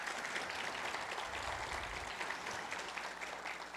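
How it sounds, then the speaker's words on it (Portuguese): A conference audience at an air-travel industry event claps in sustained, even applause as a speaker is welcomed to the stage, a broad wash of hands heard from within the room. "Palmas, pessoal."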